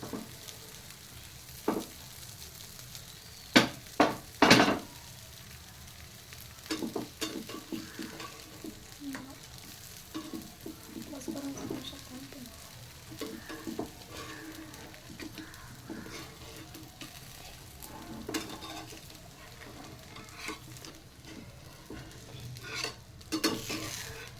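Moong dal dosa frying in a little oil on a pan: a continuous quiet sizzle with occasional sharp clinks and scrapes of a spatula against the pan, close up, with no talking.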